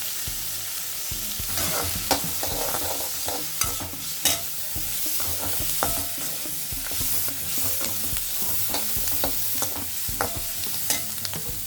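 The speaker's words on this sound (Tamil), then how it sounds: "நல்லா வெங்காயத்தை நல்லா வதக்கிக்கணும்." Onions sautéing in a pan with rock salt for a tomato mint chutney, giving a steady close sizzle broken by frequent sharp clicks and scrapes of stirring throughout, with no talking.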